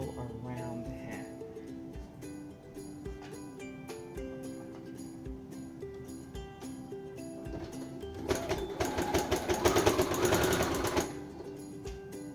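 A sewing machine runs steadily as it stitches a seam around a fabric hat, with a rapid mechanical rhythm that grows louder and busier for a few seconds near the end.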